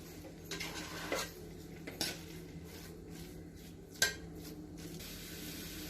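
Utensils clink and scrape in a pan while a paste of tomato puree and eggs is stirred for pasta, a few sharp metallic knocks over a steady low kitchen hum.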